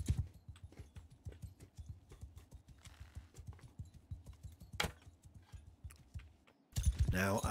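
Horses in Mount and Blade 2: Bannerlord thunder along in a fast, even run of hoofbeats, close and steady, with a brief whinny and a louder burst of battle noise at the end.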